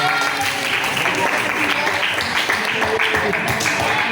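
Steady applause from a classroom of students filling the whole stretch, dense even clapping at a constant level with no pauses.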